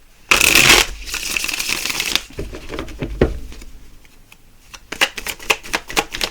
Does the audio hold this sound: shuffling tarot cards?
yes